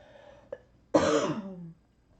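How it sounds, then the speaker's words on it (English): A person coughing, heard close and indoors: a brief throat-clearing catch, then one harsh, rasping cough lasting most of a second, with quiet before and after. "I'm still coughing half a lung up"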